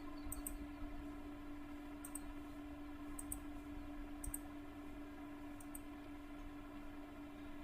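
Computer mouse clicks at irregular intervals, sharp and faint over a steady low electrical hum, with no talking.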